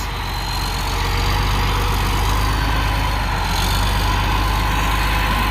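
A road grader's heavy diesel engine runs loud and close with a steady low rumble, its pitch shifting slightly as it grabs gears while grading dirt ruts.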